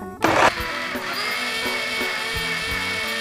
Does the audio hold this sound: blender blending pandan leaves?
yes